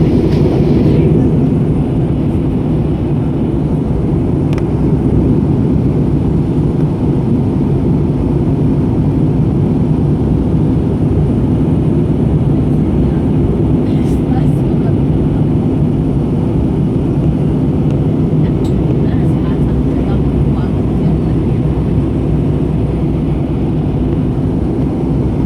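Airbus A320 airliner engines at takeoff from Bangkok airport, a loud, steady broadband roar heard from inside the cabin, constant and unbroken with no voices.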